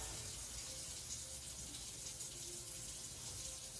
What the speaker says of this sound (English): I'm going to rinse these out because I want a little bit of water